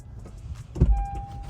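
Power rear sliding glass window of a 2023 Honda Ridgeline RTL AWD truck opening, a short motor whir followed by a thump as the pane moves, heard close by in a quiet cab.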